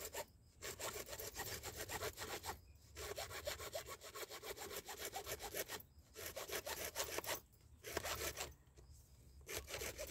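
A hand saw cuts through a broken PVC water pipe in steady back-and-forth strokes, close and loud, with brief pauses between runs of rasping strokes and no talking.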